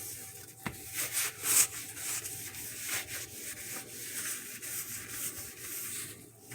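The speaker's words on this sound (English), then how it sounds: "I'm going to continue scrubbing my stove" Steady close scrubbing on a stovetop cleaned with vinegar and baking soda, a continuous gritty rubbing with small irregular surges and a few light knocks, no talking.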